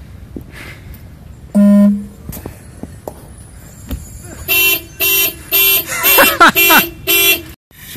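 A car alarm goes off after a short horn toot, cycling loudly through pulsing, warbling siren tones in repeated bursts, with a person's voice and footsteps nearby.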